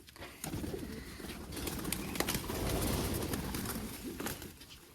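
Pigeons being given Lasota vaccine drops coo in soft, low, rolling calls close by, with scuffling and fluttering in the background.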